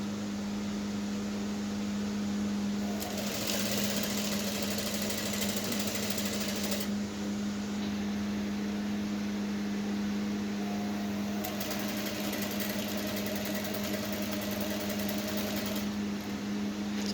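A sewing machine stitches horsehair braid onto a peplum for an off-shoulder blouse, running in steady bursts with a pause between them against a constant low electrical hum.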